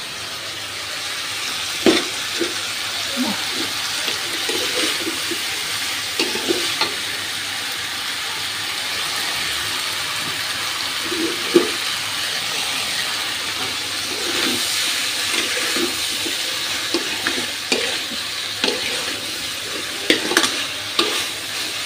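Shrimp with taro stolons frying in a pan while being stirred, a steady close sizzle and hiss with scattered scrapes and clinks of the spatula throughout, no talking.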